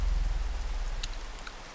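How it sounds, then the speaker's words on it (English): Rain falls in Minecraft, played with the Enigmatica 2 modpack: a steady hiss of raindrops with a low rumbling undertone and a few brighter drips, sustained evenly throughout. "Let's toggle the rain."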